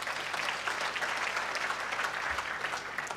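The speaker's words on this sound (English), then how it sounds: "So please clap for those guys." A commencement ceremony audience breaks into sustained applause, a dense, even wash of many hands clapping together for a few seconds with no speech over it.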